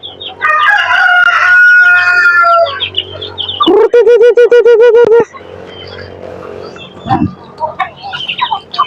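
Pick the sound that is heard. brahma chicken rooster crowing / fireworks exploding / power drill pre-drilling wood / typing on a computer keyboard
brahma chicken rooster crowing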